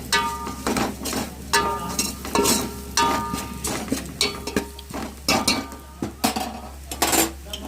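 A utensil stirs chili powder into chicken-bone curry frying in a metal pan. Repeated scraping and clinking strokes ring against the pan over a low steady hum, close and continuous, with no voices.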